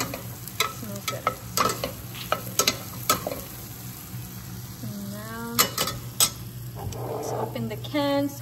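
Onions fry in a pan with a soft sizzle while a utensil scrapes and taps as they are stirred, close by, with a voice speaking briefly at moments.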